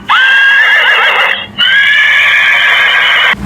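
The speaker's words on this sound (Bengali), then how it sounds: "যেমন এই যে ঘোড়ার উপর যদি আমরা চাপ দেই, হর্স ঘোড়া।" A horse neigh and whinny played from a children's talking picture book: a loud, bright, electronic-sounding whinny that breaks briefly in the middle and then continues, with no talk over it.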